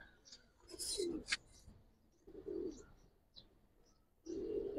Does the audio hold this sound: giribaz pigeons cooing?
yes